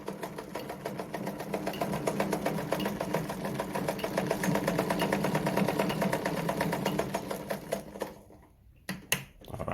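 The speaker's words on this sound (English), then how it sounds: "So when I sew through now," Singer model 237 sewing machine stitching straight through fabric, a steady rapid needle clatter running close and continuous for about eight seconds before cutting off into a few clicks.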